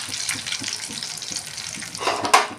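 Mustard seeds, cumin and curry leaves frying in hot oil in a pan for a roasted ridge gourd chutney tempering, a steady close crackle with a brighter burst of sizzling near the end, no talk.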